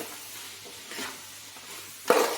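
Ivy gourd is stirred with chili powder and salt in a pan, giving soft, quiet scraping and a louder, sharper scrape just before the end.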